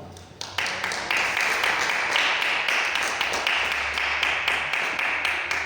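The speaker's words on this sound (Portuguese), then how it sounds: "Podem se assentar e exaltar o Senhor com palmas de vitória." A church congregation at a Brazilian prayer meeting breaks into sustained applause, a dense wash of many hands clapping with a faintly rhythmic pulse that carries on steadily throughout, heard in a reverberant room.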